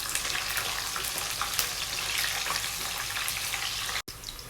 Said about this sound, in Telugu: నెక్స్ట్ ఇవన్నీ కూడా బాగా ఫ్రై చేసుకోవాలండి